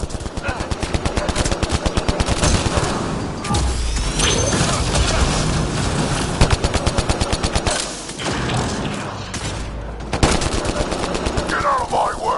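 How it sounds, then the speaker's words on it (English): Rapid automatic gunfire from a shooter game on an alien world, dense and continuous bursts with mechanical clatter and impacts, loud and close, briefly easing before resuming hard toward the end. "Shooting as fast as I can!"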